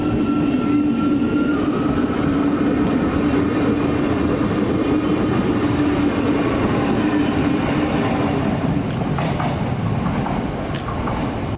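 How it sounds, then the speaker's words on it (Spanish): A Euskotren electric commuter train rumbles loudly and steadily nearby as it departs, with a sustained electric hum, rolling wheel noise and faint clacking as it moves off. "las barreras del paso a nivel de la calle San Pedro bajan, anunciando la salida de un tren."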